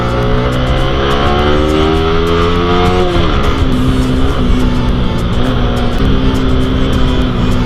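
Loud, continuous engine roar from 250cc motorcycles and Yamaha R15 bikes, with steady revving that shifts pitch around the midpoint, close and sustained throughout without a break.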